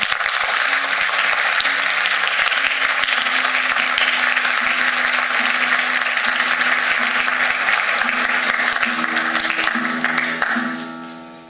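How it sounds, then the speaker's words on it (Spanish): Audience applause fills a Peruvian guitar concert hall, steady dense clapping held at a constant level for about ten seconds before tapering off at the end. "Yo quiero pedir un fuerte aplauso para ellos,"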